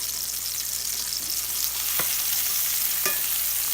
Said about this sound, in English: Just take your metal spatula, just drag it through here a little bit.